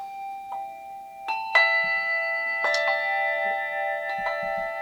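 Two hand bells struck with a mallet ring out in turn, clear sustained tones with sharp strikes, several hits overlapping as each bell keeps sounding.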